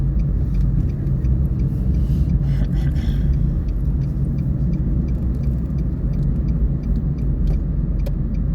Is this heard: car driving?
yes